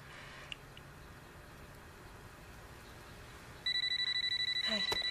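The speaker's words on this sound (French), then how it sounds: "Le téléphone n'a pas sonné tout l'après-midi, puis là, juste au bon moment." A telephone starts ringing partway through, a loud, steady electronic ring pulsing in regular bursts after a stretch of quiet room tone.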